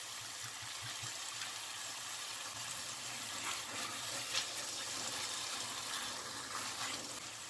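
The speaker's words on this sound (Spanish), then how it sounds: "Vamos a poner un chorrito de vino seco." A splash of dry wine pours into a pan while Cuban-style chicken gizzard fricassee cooks, giving a soft, steady liquid rush with faint sizzle, quiet and continuous throughout.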